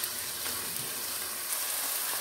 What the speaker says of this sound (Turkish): Soğanımı çok az kavurdum.